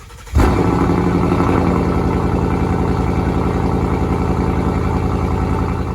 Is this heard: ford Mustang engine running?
yes